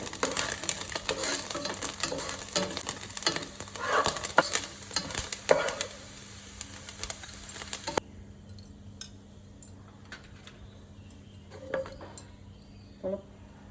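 Grated coconut fries in a pan for Karthigai pori, with steady sizzling and a few spoon scrapes and stirs, louder at first and then quieter and sparser.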